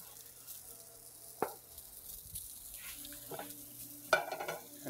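Golden brown garnish pieces cooking on their second side in a pan for a beef Wellington dish, a soft continuous sizzle with occasional sharper clatters of a utensil against the pan.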